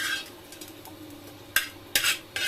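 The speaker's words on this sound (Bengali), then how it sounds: "একে একে বড়াগুলো সব উঠাই নিতেছি।" Fried lentil fritters lifted one by one from a pan with the stove off: faint scraping and light clinks, then a few sharper metallic taps near the end.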